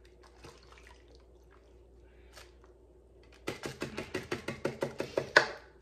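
Italian dressing glugs from a shaken bottle onto chicken in a crockpot, a quick run of about a dozen rhythmic, close gurgling pulses after a quiet start, with no voices.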